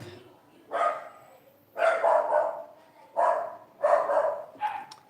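A dog barks in five loud, close bursts spaced about a second apart, with short quiet gaps between them indoors.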